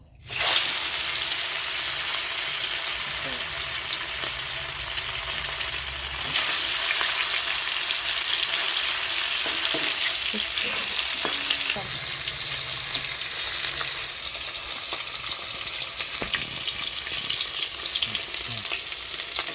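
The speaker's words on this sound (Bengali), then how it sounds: "আগে চায়নাপুটি মাছ লবণ আর হলুদ মাখিয়ে নিয়েছি, এখন ভাজবো।" Chinaputi fish coated in salt and turmeric frying in hot oil, a loud continuous sizzle with occasional stirring and scraping, close and without speech.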